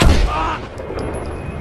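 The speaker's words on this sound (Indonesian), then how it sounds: "Brian langsung menembak mereka, dan mereka tewas saat itu juga" Gunfire in an action film: a loud, close blast opening the moment, followed by a rumbling decay and a faint high ringing tone.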